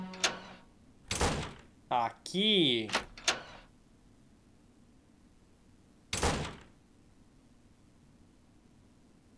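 Door sounds from the Mogeko Castle video game: a few short thuds and whooshes, then a lone clunk after a pause, interleaved with brief spoken remarks.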